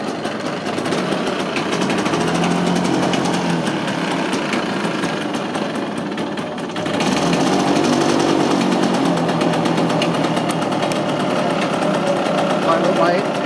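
A 1965 Lambretta scooter engine runs with a rapid, rattling two-stroke chatter, loud and close for the whole stretch, briefly dipping midway before picking back up, while someone talks over it.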